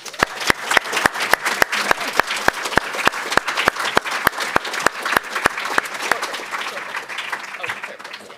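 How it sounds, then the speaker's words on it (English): An audience at a high school panel applauds steadily for several seconds, with a rhythmic sharp tick running through the clapping before it slowly thins out. "We're going to all give our panelists another round of applause."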